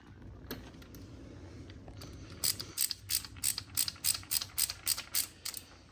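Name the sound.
tightening coolant hose fitting on Raptor 700 ATV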